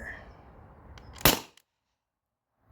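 A single sharp shot from a modified T4E HDP50 Gen 1 HPA pistol running 900 PSI, firing a 50 cal ball, cracks out after a stretch of low background rumble, then cuts to near silence.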